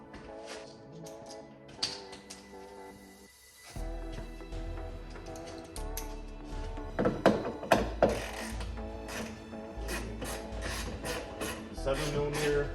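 Ratchet turning a 7mm socket on an extender during a Focus ST rear wiper delete, with quiet clicks and mechanical clunks that come in uneven bursts, close but faint, and no talk.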